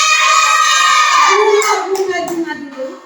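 Children in a classroom clap their hands together for a classmate, a quick burst of applause that fades out under a teacher's voice.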